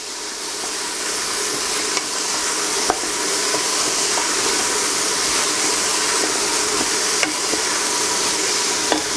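Onions and other vegetables fry in a pan as the base for lentil soup, a steady, dense hiss of sizzling with a few faint clicks, close and continuous with no talk.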